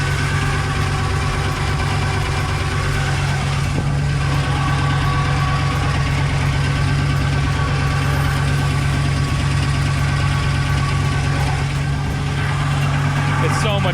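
A 1965 Jeep Wagoneer engine idles steadily with a patched exhaust, a loud, continuous low rumble throughout with a deep droning tone.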